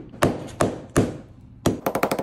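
Sharp taps on the broken back glass of an iPhone 11 to crack it during repair: a few spaced hard knocks, then a quick run of lighter rapid taps, close and crisp.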